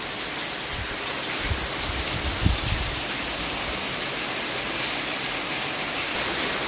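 A torrential village downpour hisses as a continuous even roar of rain on surfaces, loud and close, with a few low thuds in the middle.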